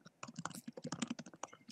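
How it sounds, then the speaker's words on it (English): Typing on a computer keyboard picked up by an open microphone during an online call, a quick run of crisp key clicks, close and faint, with no talking. "I can hear you typing your article right there"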